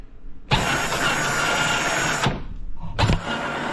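The electric motor of a Peg Perego John Deere Gator ride-on toy runs in first gear with a loud, steady whine that cuts off after about two seconds, then starts again after a short pause.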